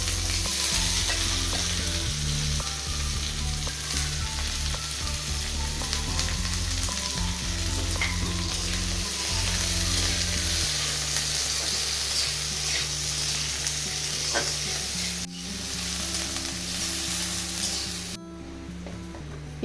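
Chopped onions frying in hot oil in a kadai give a loud, steady sizzle with stirring scrapes throughout, briefly dropping near the end before the crackle resumes.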